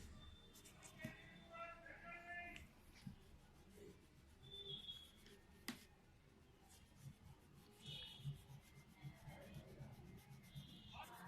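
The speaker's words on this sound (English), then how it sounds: "you have to take a eraser and whatever the pencil lines will be there" An eraser rubs out pencil lines on a children's colouring sheet, making soft, repeated scrubbing strokes across the paper, quiet and close, in irregular bursts with brief pauses.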